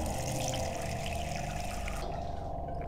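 Water runs steadily from a tap in the survival horror video game Haunting Ground, a continuous close splashing rush that thins out near the end.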